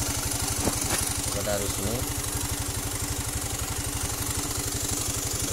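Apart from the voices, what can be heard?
Honda Beat PGM-FI scooter engine revving with throttle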